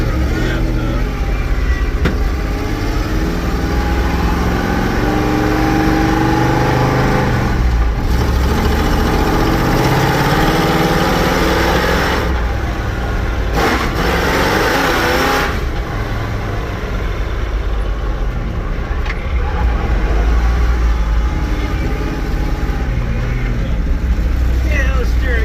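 A heavy truck engine with a 4-speed transmission runs loudly and continuously, revving and shifting through gears, with voices talking over it.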